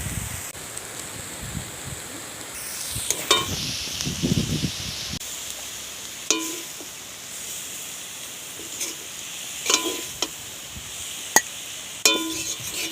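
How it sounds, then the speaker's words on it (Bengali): Fresh field-picked greens frying in a pan, a faint steady sizzle and hiss with soft rustling, scattered light clinks of utensil against pan, and a few louder scraping bursts. "আমার শাকটা ভাজা হয়ে গিয়েছে, এবার আমি নামিয়ে নেব"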